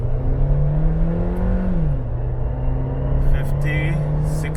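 A 2022 Suzuki Jimny GLX automatic with All Grip Pro pulls away from a standstill. Its engine drones loud and close, dipping briefly at a gear change, while a voice talks over it.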